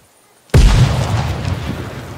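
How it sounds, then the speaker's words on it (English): A frag grenade detonates in the tactical shooter Ground Branch: one loud, close, sudden boom after near silence, trailing into a long, rumbling debris tail. No voices. "we got grenade effects continue to be iterated on, and VFX artist Charles got a nice spot with the frags"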